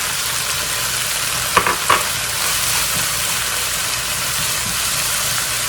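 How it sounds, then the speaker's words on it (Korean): Fried Korean black bean paste (chunjang) being stirred into a hot pan of ingredients for jajangmyeon, with a steady broad sizzle and two sharp utensil scrapes early on, close and alone without talk. "그럼 이 춘장, 아까 볶은 춘장 넣어서 다시 섞어요."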